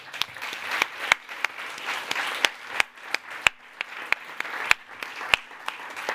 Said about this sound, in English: How about a round of applause for Markus Hartmann?